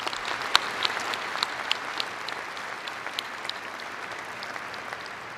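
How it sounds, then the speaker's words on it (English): A large audience applauds at a university graduation commencement ceremony, a dense steady patter of clapping with a few sharper individual claps standing out, continuing without voices. "let's all give a round of applause to the faculty that have made this graduation possible"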